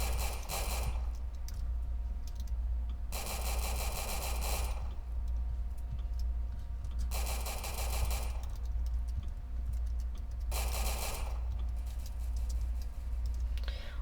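Video game gunfire from a recruit shooting: rapid bursts of ticking shots come in four separate spells, each a couple of seconds long. A steady background hum runs throughout, and no one speaks.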